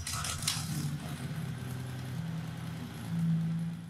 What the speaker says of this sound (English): I got the engine running for the first time in 4 years,